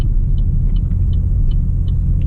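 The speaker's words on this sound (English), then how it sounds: "It's fast, 427 cubic inch engine," A 2015 Camaro Z/28 with a 427 cubic inch V8 rumbles loud and steady, a deep continuous engine drone with faint intermittent chirps above it.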